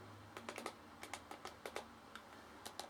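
Commands typed on a computer keyboard, a handful of crisp close key clicks in small clusters with gaps, quiet over faint hum.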